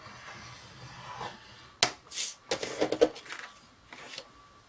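Card stock is scored on a scoring board with a few sharp snaps and scratchy rubbing strokes, close and quiet, in short separate bursts with pauses between them.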